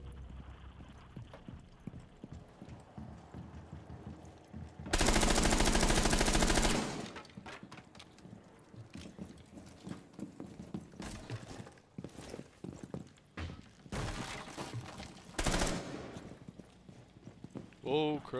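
Automatic gunfire from the Rainbow Six Siege game, a loud sustained burst of rapid shots followed later by two shorter bursts, with voices chatting over the game sounds in between.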